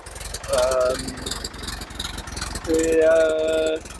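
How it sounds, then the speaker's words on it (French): A de Havilland Gipsy inverted inline aircraft engine runs with a steady rhythmic thrum, heard near and fairly loud, with a couple of brief tonal whines rising over the continuous engine pulse. "C'est un moteur Gypsy."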